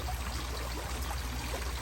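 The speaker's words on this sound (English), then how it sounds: "So water is continuing flowing." Water flows steadily through a bell siphon setup on a crayfish pond as a continuous, close rushing stream with a deep rumble underneath.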